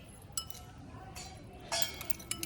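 Spoon mixing lemon juice and sugar in a small glass or bowl, giving several light, bright clinks at irregular intervals over a quiet background.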